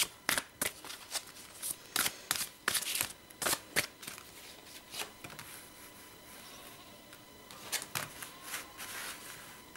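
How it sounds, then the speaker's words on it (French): Oracle cards shuffled and drawn one after another, a run of sharp, dry riffling snaps and slaps spread irregularly across the clip, close and clear with no talking. "je vais tirer d'ailleurs les 3 premières lames de chaque"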